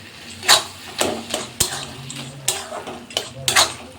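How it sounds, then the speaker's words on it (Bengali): Kochu (taro) leaves stirred in a pan with mustard oil, giving a run of spatula scrapes and knocks against the metal about every half second, with a soft sizzle underneath. Close and fairly loud. "শেষকালে একটু সর্ষের তেল দিয়ে একটু নাড়াচাড়া করে"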